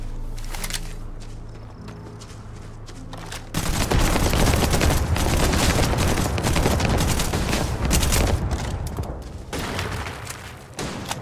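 Shotgun blasts in Starfield come in heavy repeated bursts amid combat noise and footsteps, after a calmer opening with a low hum.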